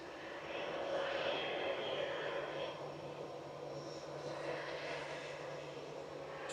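An EasyJet airliner departs Manchester Airport, its engines a steady, moderately distant roar that swells and holds across the stretch with no talk over it.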